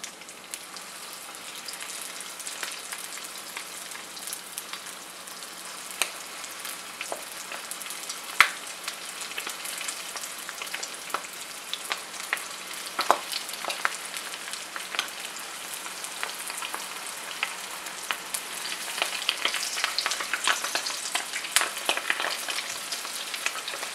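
Lumpia fry in oil over medium heat, giving a steady, dense sizzle with fine crackling pops throughout, close and continuous with no talking.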